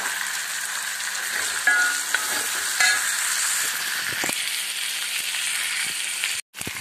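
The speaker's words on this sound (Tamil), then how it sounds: "வெள்ளைப்பூடையும் போட்டு நல்லா வதக்கிட்டு" Garlic and onions sizzle and crackle steadily in a hot pan, with occasional stirring scrapes; no talking.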